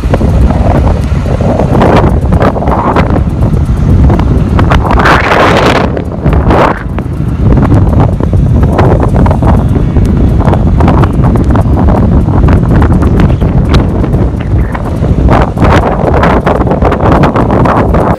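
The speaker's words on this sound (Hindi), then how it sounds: "NCR क्षेत्र में तेज हवाओं का दौर अचानक शुरू हो गया" Strong storm wind roars steadily and loudly across the NCR region, buffeting the microphone with heavy gusts and constant rumbling for the whole stretch, with no voices over it.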